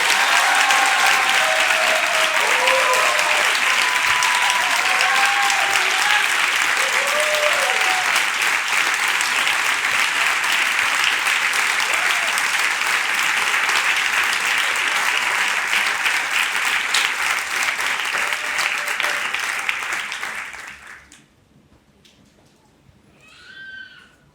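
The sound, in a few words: congregation applauding loudly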